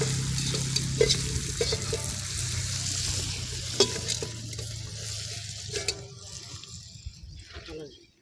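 Katla fish pieces frying in a spiced gravy for kalia, with a moderate bubbling sizzle and occasional stirring clinks that quiet down toward the end.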